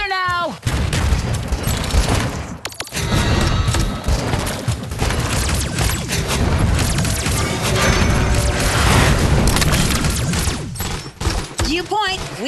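Soldiers fire weapons in the Iron Marine strategy game, a dense, sustained barrage of gunfire and crashing impacts running almost without pause, with short voiced callouts breaking through at the start and end.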